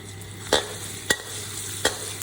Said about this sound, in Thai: เราจะเจียวให้กระเทียมหอมนะคะ